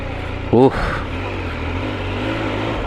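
Triumph Speed Triple 1200cc motorcycle engine idling and running with a steady low rumble throughout, after a brief burst of speech near the start.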